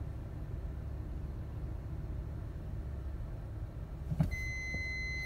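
A 2016 Honda Odyssey sounds its rear power door warning while driving: a short electronic beep begins near the end and holds steady over the low, constant hum of road and engine noise inside the cabin.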